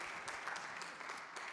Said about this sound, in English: Let's just thank the Creator with some hand claps